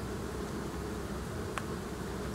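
Honeybees swarm around an open hive in a faint, steady buzzing hum that blends into a soft hiss of outdoor air, continuous and without pauses.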